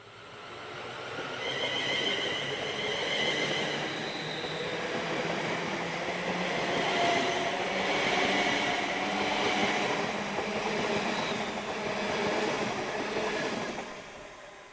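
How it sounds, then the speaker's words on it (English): British Rail Class 350 electric multiple units 350-123 and 350-259 departing on a Birmingham to Liverpool Lime Street service, a steady loud rumble and whine of the train pulling away that holds throughout, with no talking. "Here we have 350-123 and 259 departing, forming the 1104 Birmingham to Liverpool Lime Street service."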